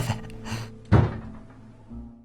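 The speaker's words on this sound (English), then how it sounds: "you just hear that dunk on the front door" A single dull thud strikes the front door in a film scene, a short heavy knock standing out clearly against a quiet background.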